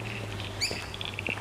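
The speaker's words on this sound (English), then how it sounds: "There's plenty of birds." Birds chirp in an Australian nature park at Kennington, with a short high call near the middle and lighter twitters after it, moderately close over a steady low hum and faint outdoor background.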